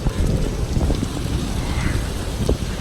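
Heavy storm rain pouring outdoors with gusting wind buffeting the microphone, a dense continuous rushing wash with a few scattered thumps, near and loud.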